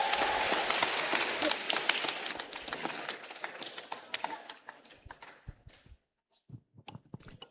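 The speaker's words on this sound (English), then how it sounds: "Come, keep those hands clapping." Audience clapping at a graduation ceremony, starting as loud, dense applause that thins into scattered individual claps and dies away to near silence, with a few last claps after it.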